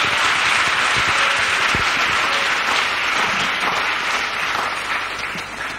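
A church congregation claps and applauds together in praise, a dense, steady roar of many hands that holds loud throughout with no voices on top.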